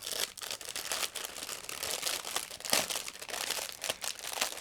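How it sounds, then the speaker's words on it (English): A plastic bag of parts from a Beemax 1/24 BMW 320i BTCC 1996 model kit is opened with steady, close crinkling and rustling. A few sharper crackles stand out, and no one speaks. "And next I'm opening another plastic bag."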